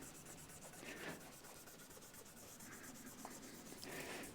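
Guitar fret ends being filed on an acrylic-bodied SG-style electric guitar, a faint, steady rasping rub repeating in short strokes with no talking.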